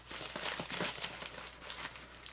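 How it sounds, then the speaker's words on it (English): Package unboxing with cardboard box contents being handled, giving continuous crisp crinkling and rustling of packaging, close but fairly quiet, with no speech. "So I'm doing a little unboxing here."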